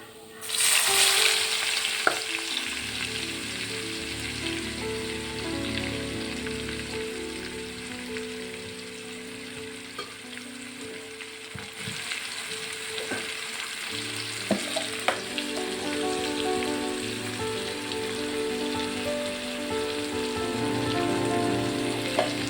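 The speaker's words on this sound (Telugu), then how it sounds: "ఇప్పుడు ఉల్లిపాయలు, పచ్చిమిరపకాయలు వేసుకుందాం." Onions and green chillies fry in a pan with a loud sizzle right as they go in, then a steady rain-like crackle that holds for the rest of the stretch, with a few stirring taps and no talk.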